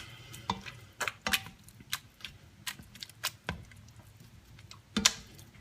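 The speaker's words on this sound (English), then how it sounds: "So we're just gonna mash this up." Canned sweet potato being mashed with onion for a vegan sweet potato alfredo, giving soft, irregular squishing and tapping thuds at close range, with no talk.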